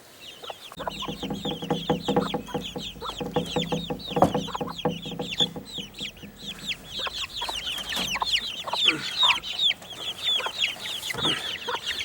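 A mother hen and her baby chicks cluck and peep close by, with constant high chirping over low, steady clucks, let out near dogs.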